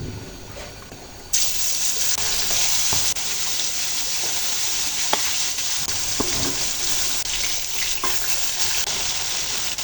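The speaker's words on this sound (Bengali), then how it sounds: "এরপর মাছগুলো এক এক করে ভেজে নিতে হবে" Loud, steady sizzling of fish frying one by one in hot oil in a wok kicks in abruptly after a quiet moment, with scattered pops and spatters and no talking.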